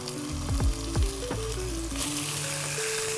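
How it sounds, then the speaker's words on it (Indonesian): Oil sizzles steadily in a hot wok with only a little oil, a continuous close frying hiss, while faint clinking stirring touches and low tonal kitchen sounds drift underneath. "Kita mau goreng."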